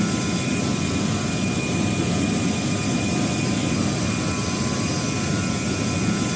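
An airplane engine in a flight simulator game drones in a steady, unbroken roar with a faint high whine on top, holding at an even level throughout with no speech.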